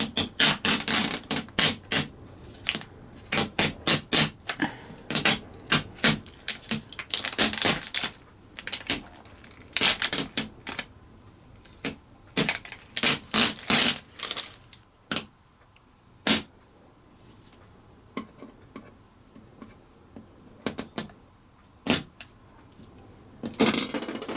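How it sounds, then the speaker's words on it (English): Painted vinyl stencil being peeled slowly off a glass window, giving a long run of sharp, crackling clicks and pops in uneven bursts, close and fairly loud against a quiet room. "So we're just going to carefully pull this off."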